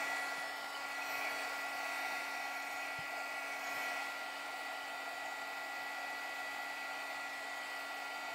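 A small heat dryer drying a paper flower for a handmade card runs as a steady high-pitched whirring whine, close and continuous throughout, with no talking.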